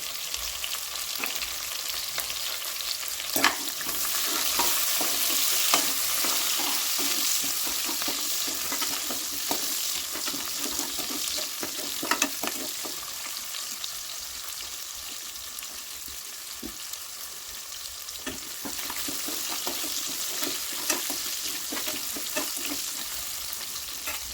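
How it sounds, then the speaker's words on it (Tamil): Onion, chillies and curry leaves fry in a pan with a continuous loud sizzle, broken by frequent stirring scrapes and clinks, close up and without speech. "வெங்காயம் போட்டுக்கலாம். மிளகாய், கருவேப்பிலை போட்டுக்கலாம்."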